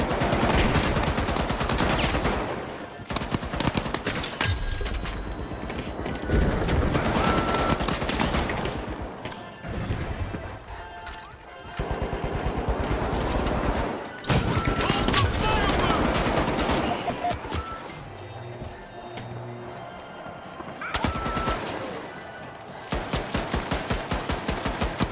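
Magazines of video game gunfire are emptied into a wall in long, loud automatic bursts, several sustained volleys broken by brief pauses, with rattling impacts.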